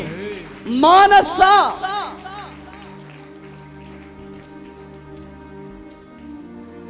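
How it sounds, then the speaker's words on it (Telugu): A church congregation claps in a dense, rain-like patter under a loud voice calling out, then the clapping carries on more softly behind quieter sound. "గట్టిగా చప్పట్లు కొట్టాలి, గట్టిగా చప్పట్లు కొట్టాలా, చప్పట్లు కొట్టాలా"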